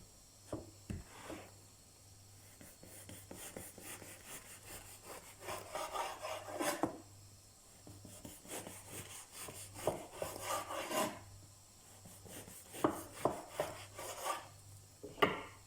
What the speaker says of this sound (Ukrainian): Багет або ж звичайний батон розрізаємо на невеличкі шматочки